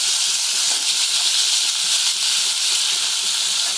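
Potato slices hit hot oil with mustard seeds in a pot, producing a loud, constant, close hiss of frying with no talk over it.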